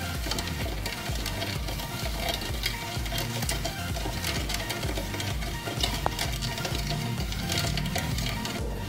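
Sugar is stirred into milk in a pan for custard, making a steady busy scraping and clinking of a spoon against metal, close and continuous without pause.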